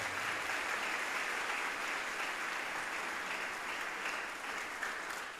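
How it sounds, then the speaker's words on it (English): Applause at a foundation scholarship night, a full room clapping steadily and evenly for the students, tapering slightly near the end. "please give them a round of applause"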